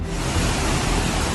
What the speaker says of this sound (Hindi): पानी के इस वेग को सुनिए।